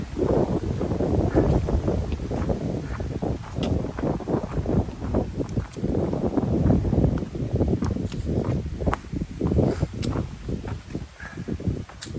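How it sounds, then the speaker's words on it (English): Gusty wind on the Appalachian Trail near Dragon's Tooth buffets the microphone in rough, uneven bursts, loud and close, with occasional faint clicks and no voices. "I don't know if you can hear that wind, but it's been a blowing today"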